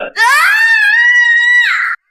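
A woman lets out a single loud, sustained scream that rises sharply and holds a piercing, wailing pitch for nearly two seconds before cutting off abruptly, heard alone and close.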